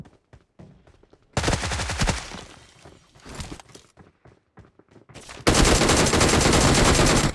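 Rapid bursts of gunfire in a video game, a short volley early on then a loud sustained stream of automatic fire at the end, with quieter scattered shots and footsteps between.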